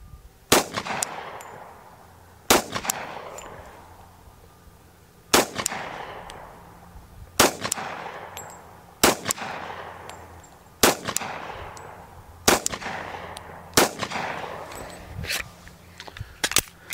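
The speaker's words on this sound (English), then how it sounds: "go ahead and shoot a couple more." Glock 41 pistol shots fired one at a time at an outdoor range, about ten sharp, loud reports spaced a second or two apart, each trailing off in a short echo.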